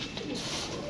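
Pigeons cooing close by as grain is scattered for them, soft throaty calls over a busy background hiss.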